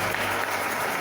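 A church congregation claps together during a worship service, a dense, loud burst of applause filling the space for about a second with no voices standing out.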